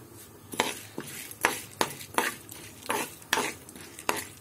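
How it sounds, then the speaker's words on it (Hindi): Chana dal is stirred in a pan with a utensil, about eight rhythmic scraping sweeps over a faint sizzle, close and fairly quiet, with no voices. "आधा कटोरी हमने चने की दाल लिया है और इसे मैं अच्छी तरह से मिक्स कर देती हूँ।"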